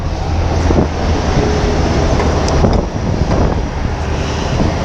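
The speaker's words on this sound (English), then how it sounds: "So it's a bit windy out there today." Loud, constant wind noise blasting across the microphone, a dense roaring rumble with occasional gusty thumps and no talking.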